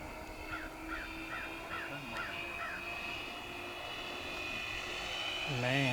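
A radio-controlled LX Super B-25 Mitchell bomber model with a 2000 mm wingspan flies past at half throttle, its steady engine drone swelling louder as it nears, with faint outdoor background sounds.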